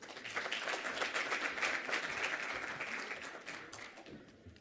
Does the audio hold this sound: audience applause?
yes